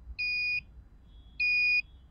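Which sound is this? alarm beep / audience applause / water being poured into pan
alarm beep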